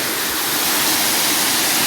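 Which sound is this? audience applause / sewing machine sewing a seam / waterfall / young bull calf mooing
waterfall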